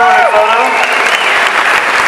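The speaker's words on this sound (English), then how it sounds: "Everyone, give the biggest round of applause" A convention audience at a Wizard World Comic Con celebrity Q&A in Columbus breaks into loud, sustained applause, many hands clapping close together with a voice carrying over the top.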